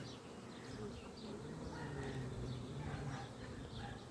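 Dense, steady buzzing of many honeybees close by at a hive entrance, a continuous droning hum with faint background sounds.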